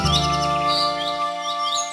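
A cartoon mother sparrow chirps in a short burst of high, bright, repeated tweets over a sustained tonal backing.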